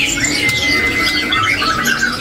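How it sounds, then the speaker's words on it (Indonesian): A male oriental magpie robin in a cage at a bird market sings loudly and up close, a continuous run of bright, varied whistles and chirps. "ada murai trotol jantan ya"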